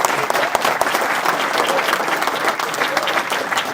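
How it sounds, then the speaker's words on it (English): Steady applause from a crowd at a Hall of Fame ceremony fills the whole stretch, dense and even without pauses. "Give them a round of applause."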